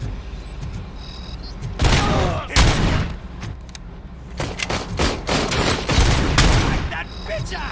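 Gunfire bursts out in the first-person shooter game Robocop: Rogue City, with loud rapid volleys and heavy impacts coming in several clusters, mixed with game sounds and a voice speaking.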